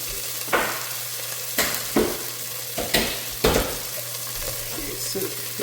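Egusi toasting in oil in a pot, a steady sizzle of frying running throughout, broken by several sharp scraping stirs of a spoon against the pot, close and clear with no talk.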